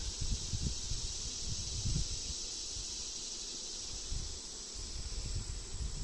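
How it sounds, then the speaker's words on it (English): Honey bees buzzing at an opened hive during an inspection, a dense steady hum close by with soft rustling and handling noises mixed in, no voices. "There's bees on both sides of the inner cover."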